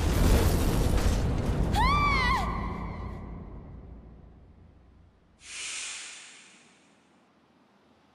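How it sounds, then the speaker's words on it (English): A huge explosion in the video game Exist Archive roars loudly at first, its rumble fading over several seconds beneath a brief swooping electronic tone, followed by a short hissing burst and then near silence. "There was this huge explosion."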